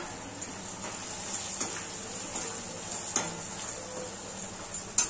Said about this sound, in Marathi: हे शेंगदाण्याचं कूट आहे ना, हे पण फ्राय करून घेऊया।